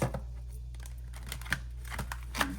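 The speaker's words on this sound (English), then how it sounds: "That was a terrible shuffle." Tarot cards are shuffled by hand, giving soft papery riffles and a few crisp clicks over a low steady hum, close up and quiet.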